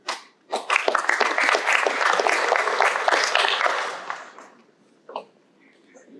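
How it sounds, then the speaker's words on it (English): Applause at a scholar-athlete awards luncheon as a recipient is announced; a room of diners claps for about four seconds then fades, with a speaker's voice heard briefly before and after. "it's too tempting to applaud each one"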